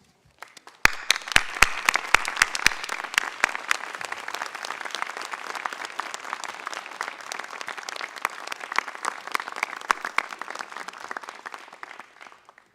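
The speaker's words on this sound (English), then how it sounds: "I will ask the faculty to stand and applaud the graduates." Faculty standing to applaud graduates at the Henry Ford College 2023 commencement morning ceremony. It opens with a few scattered sharp claps, then sustained crowd applause fills the hall before thinning toward the end.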